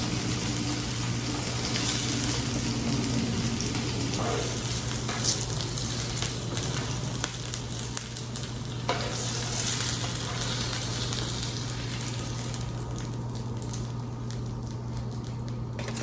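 Chicken fajitas sizzle in a cast iron skillet, a steady crackling hiss with scattered pops and a low electrical hum underneath, with no talking.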